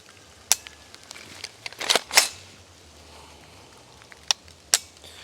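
Crisp mechanical clicks from the flat-faced trigger of a Blackout Defense Quantum MK 2 rifle with the magazine removed: a sharp snap, a small cluster of clicks, then two more isolated clicks later, close and clear over a quiet room, with no talking.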